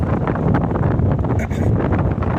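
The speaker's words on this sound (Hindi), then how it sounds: "हवा चल रही है" Wind gusts across open farmland in Madhya Pradesh, buffeting the microphone with a continuous loud rumbling roar that barely varies over a couple of seconds.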